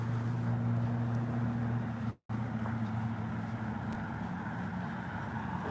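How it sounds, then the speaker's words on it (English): Steady low hum of a car engine from outside as the car turns, moderate and continuous, broken by a brief dropout before the drone carries on, no talking. "The car's turning right now."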